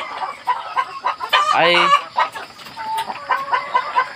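Chickens on a small farm clucking nearby, with a louder rooster-like squawk partway through, over scattered short calls and a brief spoken word.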